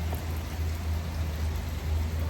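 Heavy rain pours down outdoors in a steady, dense hiss with a strong low drumming rumble, loud and continuous with no break, and no one speaking.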